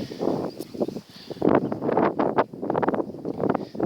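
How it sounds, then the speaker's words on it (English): Wind gusting across Ilkley Moor near a quarry, rough buffeting against the microphone that swells and drops in uneven bursts, close and moderately loud with no voices. "We're back in the wind now."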